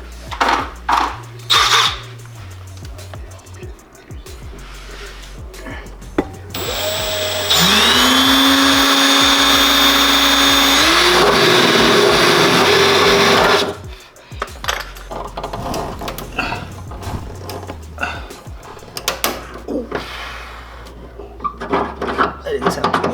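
A rivnut tool whirs and whines for several seconds while setting a rivnut into a Honda S2000 side skirt, a rising motor tone amid garage clatter and talk before and after.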